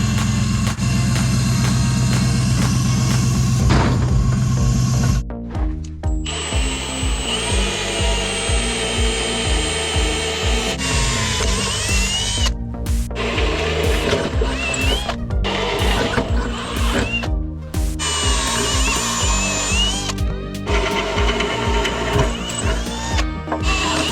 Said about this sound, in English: I'm gonna drill these side holes in so we know where to center it off of